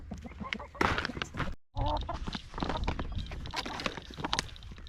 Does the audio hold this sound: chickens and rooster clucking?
yes